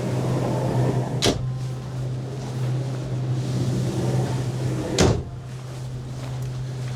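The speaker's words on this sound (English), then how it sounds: "you obviously can just close the doors like we have here" Cabin doors on a Nimbus C9 motorboat close with two sharp thuds a few seconds apart, over a steady low engine hum.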